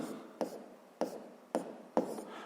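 A pen writes by hand on paper, four quick scratchy strokes at even intervals, close and quiet with no talking.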